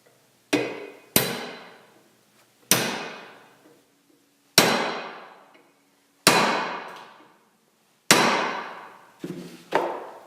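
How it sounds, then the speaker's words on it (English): A big hammer strikes a steel taper pin, driving it into a bearing on a South Bend 13-inch lathe during restoration, giving seven loud, ringing metallic blows spaced roughly a second apart, each decaying into silence. "use a big hammer to drive this home"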